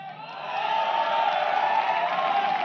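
Audience in a large hall at a Hindi motivational stage talk applauds and cheers for someone's achievement, a dense steady roar of clapping and whoops that swells after the first half second and stays loud throughout.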